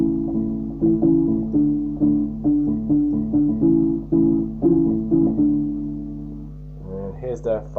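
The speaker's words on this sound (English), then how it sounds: "This is the sound of soft guitar." Soft guitar voice on an electronic keyboard picks out a gentle, plucked melody of repeated notes with a steady rhythm, close and clear, followed by a short spoken phrase.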